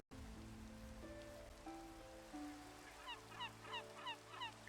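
Seagull calling in Minecraft: a series of short, nasal squawks repeating in quick rhythm toward the end, over a low steady game background with faint tonal notes.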